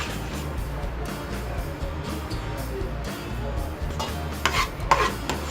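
Vegetables going into a sauce in a pan for Singaporean rice, with stirring and scraping over a low sizzle, plus a couple of sharper clinks near the end.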